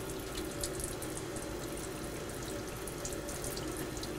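Water rinses OxyClean out of a beer keg in a steady, continuous gush with a faint hiss, recorded up close with no talking.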